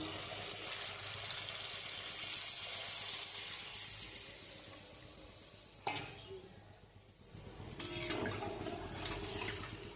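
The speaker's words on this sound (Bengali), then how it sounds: "এবার আমি জল দিয়ে দেবো।" Water poured into hot fried spice paste with poppy seed and cashew for a pabda fish curry, a loud hissing splash and bubbling sizzle, followed by sharp scrapes and renewed fizzing as it is stirred.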